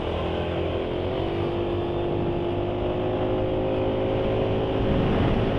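A Yamaha Lexi scooter engine idles steadily after a change to Silkolene 20W50 oil, giving a continuous droning hum with a faint rattling tick, close and even in level, swelling slightly near the end.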